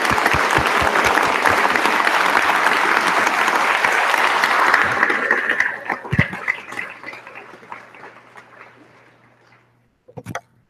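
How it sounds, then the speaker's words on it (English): A crowd at a graduation ceremony applauds doctoral students, dense sustained clapping that thins out and fades over several seconds, followed by a single sharp knock near the end. "I'd like to invite you to share with me the applause for these wonderful doctoral students."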